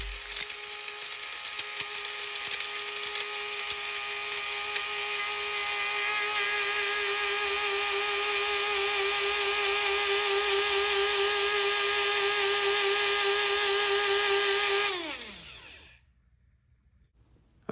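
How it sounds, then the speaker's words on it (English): Grinder pulverising wintergreen Lifesaver mints: a loud, steady high whir with a constant tone running for about fifteen seconds, then winding down and stopping into silence. "now I'm going to start grinding and record the light"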